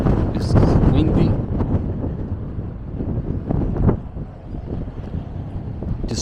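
Strong wind off the Atlantic Ocean buffets the microphone in a steady, heavy roar with gusty swells throughout, loud and close, in Reykjavik, Iceland.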